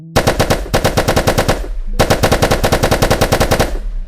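Rapid machine gun fire from a VR ragdoll physics game, two long loud automatic bursts of evenly spaced shots with a brief pause between them and no talk.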